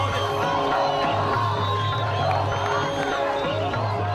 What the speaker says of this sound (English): the crowds are shouting and screaming